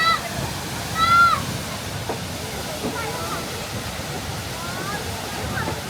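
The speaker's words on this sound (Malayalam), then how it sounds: "വെള്ളച്ചാട്ടത്തിൻ്റെ മറ്റൊരു കാഴ്ച വലതുവശത്തായി അല്പം കൂടി" The Dudhsagar waterfall in Goa gives a steady, moderately loud rushing hiss heard from a distance, with a faint whistle-like tone and a person talking briefly over it.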